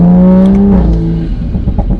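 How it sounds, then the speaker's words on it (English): A tuned Toyota Supra A90 engine revs with a strong rising tone, then drops off into a rough, ripping, crackling exhaust burble, loud and close. "you hear the car ripping"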